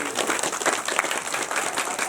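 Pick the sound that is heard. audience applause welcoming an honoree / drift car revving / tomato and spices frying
audience applause welcoming an honoree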